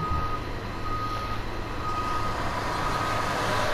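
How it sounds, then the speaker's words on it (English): A sturdy, slow-moving truck in the Watch Dogs video game, reversing: a steady engine rumble runs beneath a thin, persistent high-pitched reversing beep, close and fairly loud, with no voices. "It's a sturdy, slow-moving truck."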